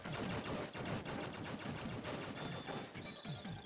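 Wave beam weapon fires continuously in the video game Blaster Master Zero during a boss fight, a dense, loud, rapid stream of buzzing, gunfire-like pulses that never lets up.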